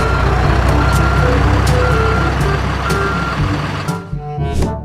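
A concrete mixer truck reversing on a construction site, steady evenly spaced beeps over a loud rumbling diesel engine, ending with a shift in engine noise.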